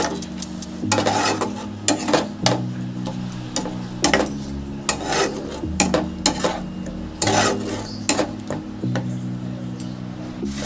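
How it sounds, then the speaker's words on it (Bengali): Masala being stirred and sautéed in a pan while cooking soyabean and potato kosha, with repeated scraping and clinking of a spoon against the pan in an irregular rhythm over a steady background tone, no talking. "যতক্ষণ না ভালো করে মশলা থেকে তেল ছেড়ে দিচ্ছে ততক্ষণ ভালো করে একটু কষিয়ে নেব"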